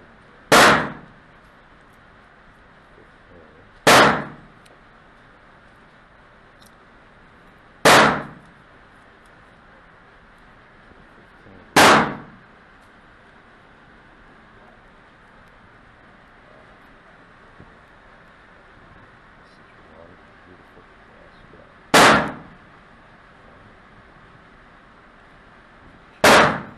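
Six sharp gunshots from a .41 Magnum handgun firing reloaded ammunition, spaced a few seconds apart with a longer pause before the last two, each a loud crack over quiet outdoor background.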